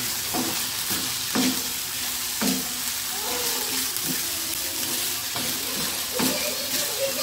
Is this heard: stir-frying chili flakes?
yes